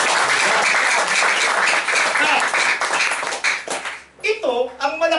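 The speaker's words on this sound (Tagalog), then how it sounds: "Isang palakpak pa para sa akin." A church congregation applauds during a sermon, dense clapping from many hands filling most of the moment before it fades out and a preacher resumes speaking.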